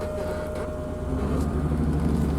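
A 1986 BMW 325e engine running after a repair, a steady low idle drone with a faint whine, close and continuous, the rumble swelling slightly toward the end.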